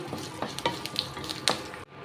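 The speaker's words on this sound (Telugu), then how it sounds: "అర స్పూను ఆవాలు రెండు ఎండుమిర్చి ఇలాగ చిన్నగా కట్ చేసి వేసుకుంటున్నాను తర్వాత కొంచెం కరివేపాకు వేసుకుని ఇదంతా కలిపేసుకోవాలి" Mustard seeds, chopped dried red chilies and curry leaves fry in hot oil for a tempering, giving a close, continuous crackling sizzle with sharp pops scattered through it before it cuts off abruptly.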